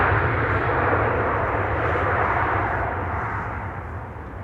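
An airliner taxiing toward its parking stand at Amsterdam Schiphol gives off a steady, broad jet-engine roar that holds level, then eases off slightly toward the end, with no voices over it.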